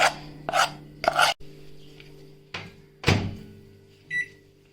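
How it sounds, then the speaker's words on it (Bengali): A convection microwave oven being set for baking a chocolate sponge cake: a few sharp clunks and rubbing knocks from the door and tray, then a short electronic beep near the end over a faint hum, with no voices. "কনভেকশন 200 ডিগ্রিজ, এটা আমি দেব হচ্ছে 25 মিনিটসের জন্য"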